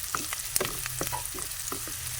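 Chopped onion and garlic frying in a pan until brown, a steady sizzle under scattered clinks and scrapes of stirring, close and moderately loud.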